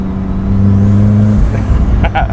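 A loud, close engine from a 350 bhp big-turbo Mazda MX-5 Miata drones with a deep steady hum that drops off midway, followed by a few sharp hissing bursts.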